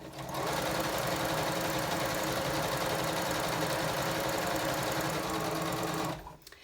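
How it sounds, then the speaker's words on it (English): A sewing machine stitching through quilt batting runs steadily for about six seconds, a loud, continuous mechanical whir with rapid stitching rhythm, then stops abruptly. "you are sewing directly onto this batting on your sewing machine"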